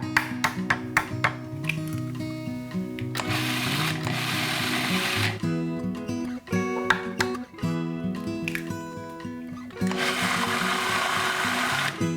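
A food processor blends almond cream with eggs in two long whirring bursts, with quieter steady tones between them.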